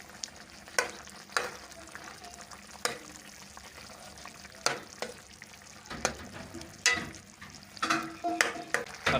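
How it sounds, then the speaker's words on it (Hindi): Tomatoes stirred in a karahi pan for a restaurant-style beef Shinwari karahi, with a spoon scraping and clattering against the metal in repeated strokes over a steady frying sizzle, close and fairly loud. "टमाटरों को अच्छी तरह से मिक्स कर लेंगे।"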